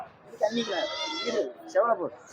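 Goats bleat at a busy village livestock market, several wavering, nasal calls one after another, close and fairly loud, with people talking nearby.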